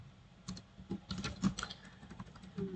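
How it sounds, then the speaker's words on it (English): Quick keystrokes tap on a computer keyboard while writing Laravel code, an irregular run of close, light clicks with brief pauses between bursts. "just type something inside h1 tag"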